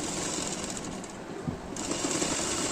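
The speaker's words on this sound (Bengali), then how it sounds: "প্রথমে একটা উপরে সেলাই দিয়ে নেব লেসটার।" A sewing machine stitches lace onto a kurti, running a steady, close mechanical whir that dips briefly mid-run and then picks back up, with no talking.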